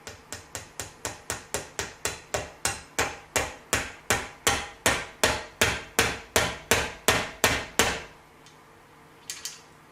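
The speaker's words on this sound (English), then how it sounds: "take my hammer" Sharp metallic hammer taps drive a part through a Kibler Woodsrunner flintlock rifle during fit-up, about twenty evenly spaced close blows growing slightly louder, then stopping, followed by a couple of faint handling clicks.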